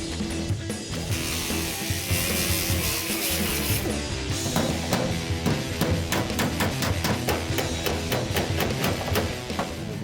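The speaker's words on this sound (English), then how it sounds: "finish it all out with a hammer and dolly" A hammer and dolly shape car body metal on a 1970 Camaro, giving a rapid series of sharp metallic taps. The strikes come at an uneven but quickening rhythm, close and clear, with no talking.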